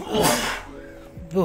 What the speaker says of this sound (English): Excuse me, that was a sneeze.